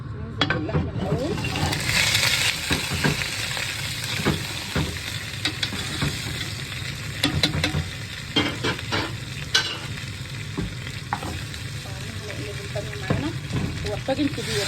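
Pieces of lamb sizzle in a large tagine with tomato juice while a utensil stirs and scrapes them. The frying hiss is close and continuous, broken by sharp clacks.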